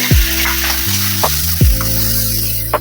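Green chillies frying in a pan of hot oil, a steady loud sizzle running throughout with a few sharp pops and spatters, no voices.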